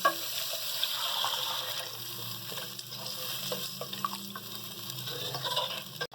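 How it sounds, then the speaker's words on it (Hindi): About two litres of water poured into a cooking pot for hot and sour soup, a steady close splashing rush running unbroken for several seconds with no talking. "ये देखिए इसके अंदर तकरीबन हमने 2 लीटर पानी डाल दिया"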